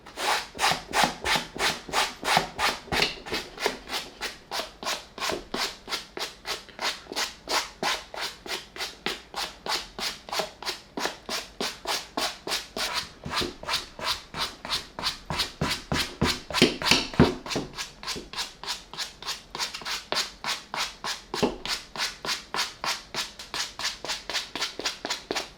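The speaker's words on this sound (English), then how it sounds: "use this suede brush, and we're going to start with the hard bristle part first" A hard-bristle suede brush scrubs a Nike ND 2 sneaker in fast, even back-and-forth strokes, a close, rhythmic rasping that keeps up steadily throughout without any talking.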